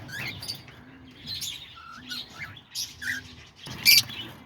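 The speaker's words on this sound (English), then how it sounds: "These are all the lovebirds right here that I got." Pet lovebirds chirp and squawk in short, scattered calls, fairly close and moderately loud, with a sharper burst of squawking near the end and no talking.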